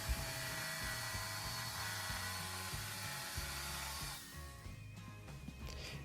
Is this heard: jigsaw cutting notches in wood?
yes